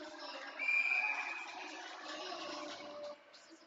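A referee's whistle sounds during a girls' varsity hockey game between Newburyport and Marblehead: one sustained, thin blast, somewhat distant, above a steady rink ambience.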